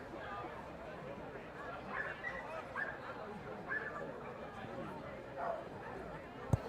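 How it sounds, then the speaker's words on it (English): Several dogs yipping and barking in the crowd at a high school baseball game, short scattered barks fairly distant behind steady crowd murmur and a commentator talking. "Oh, I hear multiple dogs."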